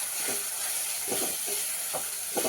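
Turmeric and spices frying in hot oil give a steady bright sizzle and hiss, with small bubbling pops rising through it, close and continuous.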